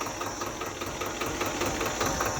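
A tractor with a rotavator attached idles on a village farm field, its engine a steady, close mechanical drone with a rapid knocking rhythm throughout.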